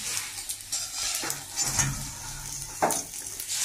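Vegetables fry in hot oil in a wok, giving a continuous crackling sizzle with stirring scrapes and an occasional clink of a utensil against the pan, heard close with no talking.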